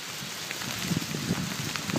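A hailstorm in Germany, heard outdoors: a dense, steady clatter of hailstones striking nearby surfaces, with scattered sharper impacts popping out of the continuous rushing patter.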